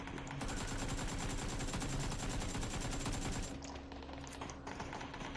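AK assault rifle fire in PUBG, a long unbroken automatic burst of rapid, evenly spaced shots at close range that cuts off abruptly, followed by a few scattered clicks.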